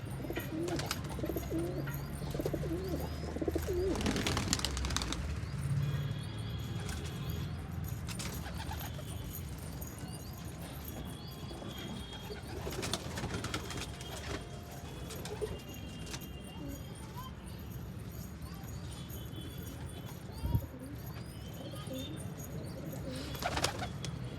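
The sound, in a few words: pigeons cooing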